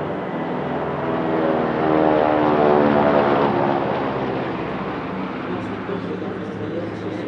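Several C-45 propeller aircraft flying in a four-ship formation at an airshow pass overhead, a steady loud drone of piston engines that swells toward the middle and slowly fades.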